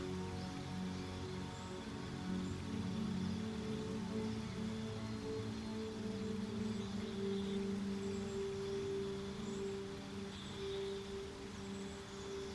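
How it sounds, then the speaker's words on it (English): Steady rain falling on surfaces in the video game Baldur's Gate 2, a continuous even patter with a low tonal drone beneath, constant and fairly loud throughout with no talking. "It is freezing rain."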